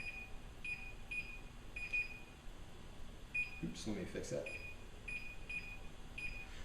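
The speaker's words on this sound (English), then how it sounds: "So let me set a timer here." Quiet high electronic beeps repeat at a steady pace as a kitchen timer is set for 12 minutes for boiling eggs, while a person speaks briefly in the middle.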